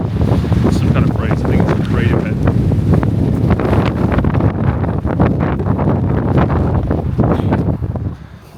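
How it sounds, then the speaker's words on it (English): Heavy wind buffets an outdoor microphone, a loud, continuous low rumble with gusty crackle that runs steadily for about eight seconds before easing slightly at the end; no voice stands out over it. "It's very windy."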